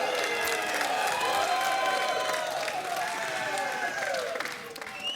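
A large crowd claps and cheers in a sustained roar at an ESL Challenger Melbourne 2022 esports match, steady throughout with tonal game sounds layered above.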